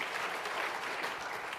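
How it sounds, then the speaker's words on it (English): Audience applause at a fashion show and keynote event, a dense, even burst of many hands clapping together throughout. "we can give a hand clap for that."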